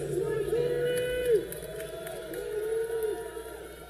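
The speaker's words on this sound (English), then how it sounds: "And this crowd is really pumped, cheering her on" Arena crowd at a college gymnastics meet between BYU and Ohio State cheers and yells steadily for a floor routine, a sustained roar with brief swells over faint voices.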